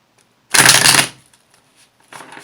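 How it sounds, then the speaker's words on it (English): A quick, dense riffle of tarot cards being shuffled, lasting about half a second, then a softer second shuffle begins near the end. "No matter how many times I shuffle the cards"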